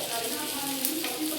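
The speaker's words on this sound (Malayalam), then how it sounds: "കടുക് പൊട്ടട്ടെ" Mustard seeds in hot oil for a chicken curry make a close, continuous sizzle with light crackling, in a very brief burst.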